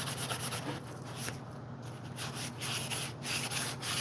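Sandpaper scrubbed back and forth over soft metal on a restoration piece, a close, steady rasping rub in repeated strokes with no pauses, no talking.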